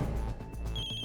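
A mobile phone rings with a steady electronic tone in a quiet house, the ring clear and close and heard alone without anyone talking.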